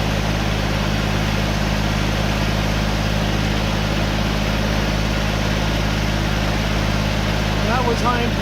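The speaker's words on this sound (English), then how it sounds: "Glad we got this tractor and not trying to do this with a wheelbarrow." Tractor engine running steadily while driving along a property during a river rock swale project, a constant low droning hum throughout with a voice heard briefly near the end.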